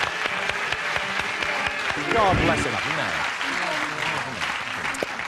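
Studio audience at a comedy quiz show gives a round of applause, loud and sustained with some cheering, while a host speaks briefly over it.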